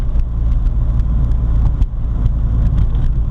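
A 1979 VW Rabbit with a 1.6L diesel engine climbs a hill, its steady low engine drone and road rumble filling the cabin continuously with no talk.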